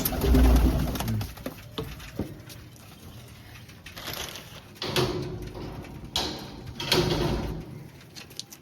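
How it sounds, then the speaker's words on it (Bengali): Pigeons at a newly built loft are fed nearby with a low cooing and bursts of wing flutter, plus rustling and scattering sounds through the scene. "দুটো তিনটে পায়রা বাইরে বেরিয়ে গেছিলো, তো তাদের ঢোকানোর জন্য আমি খাবারটা দিচ্ছি।"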